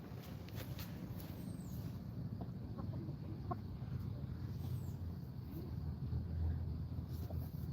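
Chickens clucking outdoors near a coop, faint occasional clucks over a steady low rumble of wind and distant traffic.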